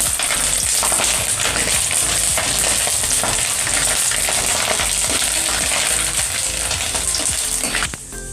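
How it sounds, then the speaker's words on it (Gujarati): Chili peppers fry in plenty of hot oil for a dhaba-style sev tameta curry, giving a loud, steady crackling sizzle with occasional stirring that quiets slightly at the end. "એટલે આપણે મરચાં તરી લઈએ।"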